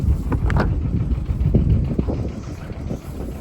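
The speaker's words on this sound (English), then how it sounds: "Oh, it's quite windy today." Wind buffeting the microphone on a boat's deck during a birthday cruise, a steady low rumble with gusty bursts throughout.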